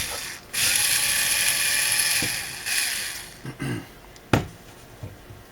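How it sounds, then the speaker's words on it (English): Screws being backed out of an old AOpen FSP 200W computer power supply, giving a steady close ratcheting whir from a screwdriver followed by a few short clicks and knocks of loose screws and metal casing. "So let's go ahead and take your screws out"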